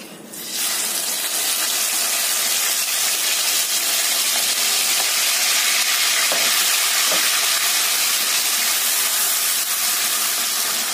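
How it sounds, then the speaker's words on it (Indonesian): Ground spice paste hits hot oil with a sudden loud sizzle that stays dense and steady up close, with faint stirring scrapes under the hiss. "Kita tumis bumbu yang sudah kita haluskan tadi"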